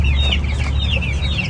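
Hens and roosters cluck continuously in a yard where chicks wander, a dense close chorus of short calls over a constant low rumble.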